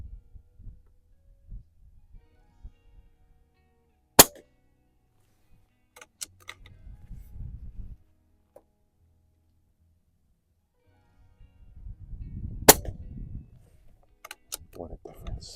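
A Pinty P air rifle fires pellets at an outdoor range, two sharp isolated cracks several seconds apart, with faint clicks and low muffled rumbles between them.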